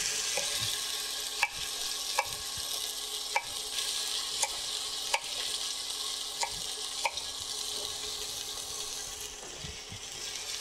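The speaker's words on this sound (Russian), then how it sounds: "у нас свининка жарится" Pork pieces fry in a pan alongside chopped vegetables for a pumpkin-pot roast, giving a steady close hiss of sizzling fat with faint periodic clicks throughout, no talking.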